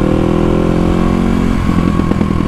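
A motorcycle engine runs loud and close, holding a steady rumble before its note drops and turns into rapid, choppy pops as the throttle closes, like engine-brake backfiring.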